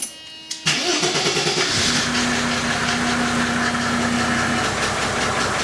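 An old Mercedes-Benz car engine cranks briefly, catches and fires up, then settles into a steady, loud idle with a rough mechanical rattle.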